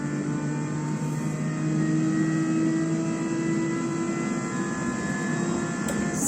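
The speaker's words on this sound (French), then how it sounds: "Accélération à fond. On accélère" Car engine at full throttle, a loud sustained tonal drone that holds steady and rises slightly in the middle, heard alone without speech.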